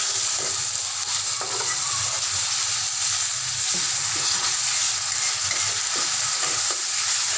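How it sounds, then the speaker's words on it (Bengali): Onions frying loudly in a pan as garlic paste goes in, a dense, continuous sizzle filling the whole clip, with faint scraping of a utensil underneath and no talking. "আর এখন আমার পেঁয়াজটা মোটামুটি ভাজা হয়ে গেছে। এখন দিয়ে দেব 1 চা চামচ রসুন বাটা।"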